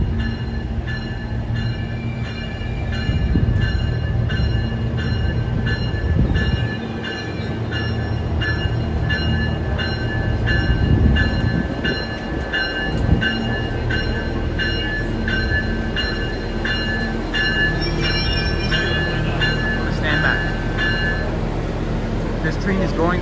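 A SMART diesel multiple-unit passenger train, cars 103 and 117, rumbles steadily into an outdoor station, with wheel and brake whine over a low drone and voices talking nearby.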